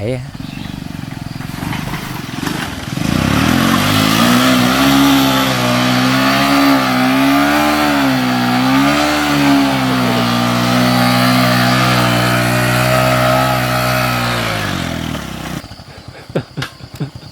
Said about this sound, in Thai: หลังที่สามล้อคันนี้เนี่ยหลบหลุมใหญ่มาได้ ก็กลับสู่เส้นทางดินอีกเช่นเคย